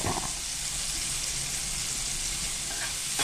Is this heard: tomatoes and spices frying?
yes